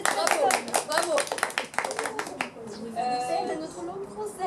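Hands clapping in a quick run of sharp claps during the first half, mixed with a voice speaking in French, then talk continues alone.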